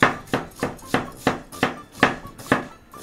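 A knife chops onion on a cutting board in about ten sharp, evenly spaced thuds, close and crisp, with no talking over the strokes.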